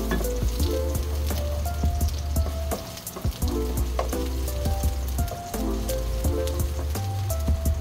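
Garlic frying to golden brown in a pan for a chicken dish, giving a steady, dense, crackling sizzle close up with scattered pops, continuous throughout with no talk.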